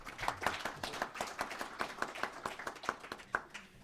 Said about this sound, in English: maybe a second round of applause, first of all, for President Kufuor.